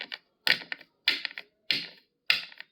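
Cooked cinnabar (sigraf) being crushed and ground, heard as five sharp, close gritty strikes with rough scraping tails. The strikes are evenly spaced, about every half second, and no one talks.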